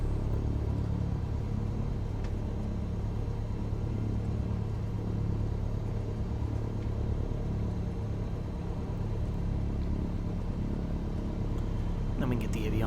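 A small airplane engine in Microsoft Flight Simulator idles at about 1,000 RPM, a steady loud droning rumble that holds throughout, with a voice speaking over it.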